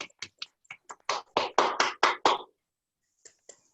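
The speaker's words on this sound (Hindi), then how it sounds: "एक बार सभी मिलकर के जोर से तालियां बजाएं देवी जी के स्वागत में" A short run of crisp hand claps welcomes a speaker at a Q&A session, about ten sharp claps building then stopping, followed by a couple of faint stray claps in near silence.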